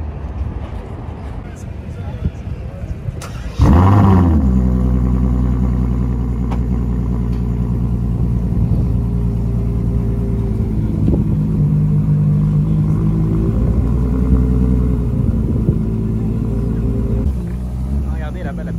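A small AC convertible sports car passes on a Paris street near a bus, its engine swelling into a loud, close rumble that holds and slowly recedes, with voices talking over it.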